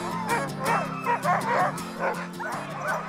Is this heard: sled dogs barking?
yes